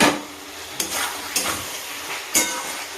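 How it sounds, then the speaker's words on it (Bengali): Potato and cauliflower pieces sizzle in a hot pan while being stir-fried, with a continuous frying hiss broken by a few sharp scrapes and clinks of the spatula against the pan, close up and without talk. "আলু আর ফুলকপি দিয়ে দিলাম, দিয়ে এইবার কষবো।"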